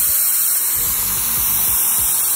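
A $15 Harbor Freight spray gun sprays paint onto a panel with a loud, steady, close hiss that runs the whole time, with faint low thumps underneath.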